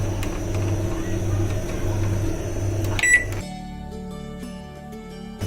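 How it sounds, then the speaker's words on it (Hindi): A microwave oven hums steadily while preheating, then clicks and goes quiet as it finishes, with a faint short beep around the changeover. "ये देखिए माइक्रोवेव की बीप आ गई, यानी कि माइक्रोवेव प्री हीट हो गया"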